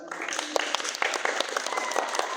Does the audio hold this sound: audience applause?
yes